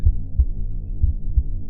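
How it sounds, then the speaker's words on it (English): Heavy, muffled heartbeat from the visual novel CUPID, low thumping pulses in pairs repeating steadily under a soft droning hum, close and loud with no voices. "oh God, heartbeat!"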